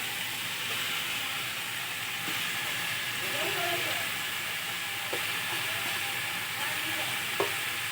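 Potatoes tipped into a pan with banana flower and grated coconut fry in a continuous, even hiss of hot oil, with faint clinks of stirring and no voices.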